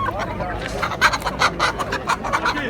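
Chickens and roosters for sale at a poultry market in Kırıkkale, with repeated short clucks and calls rising over a steady crowd murmur and nearby talk.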